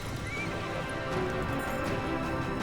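A horse whinnies loudly while hooves clip-clop beneath it, set against a dense, busy background of ambient noise with no speech.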